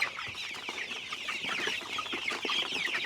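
Young pullet chickens cluck and chatter continuously in a busy flock, with overlapping short calls close by and no talking.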